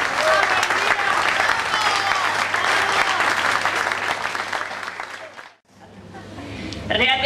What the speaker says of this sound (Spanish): Fuerte el aplauso para la señora Elvira Ceballos